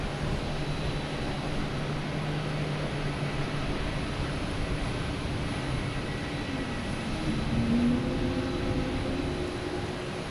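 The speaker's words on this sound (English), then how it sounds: "We got JetBlue here coming in from somewhere" A JetBlue airliner coming in to land at Boston Logan produces a distant, steady jet rumble with a faint whine, alone and moderately quiet under airport ambience.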